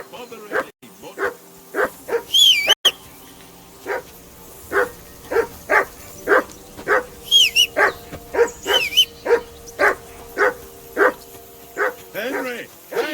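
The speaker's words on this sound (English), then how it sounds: "Call off that mutt of yours!" A dog in Kingdom Come: Deliverance II barks in a steady run of sharp, evenly spaced barks, close and loud. Voices and brief higher calls come in over it now and then.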